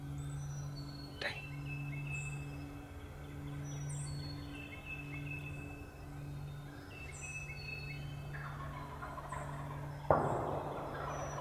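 A wild turkey longbeard gobbling in the woods during a hunt, several distant gobbles repeating every few seconds over steady low background hum, with a sharper louder burst near the end.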